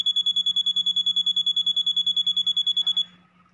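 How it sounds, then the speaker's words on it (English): A rapid, evenly spaced electronic buzzer beeps loudly about two dozen times, then cuts off, leaving a faint hum and a soft click. "buzzer is operating for the 7 seconds."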